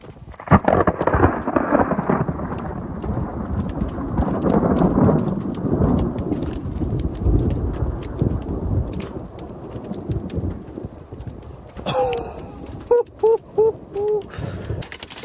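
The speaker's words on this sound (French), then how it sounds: "mais c'est des bons petits grêlons quand même" A heavy storm in the 2024 storm season with hail, thunder and rain: loud, continuous pounding and rumbling for most of the stretch, eases near the end, then brief sharp tonal bursts over a quieter wash.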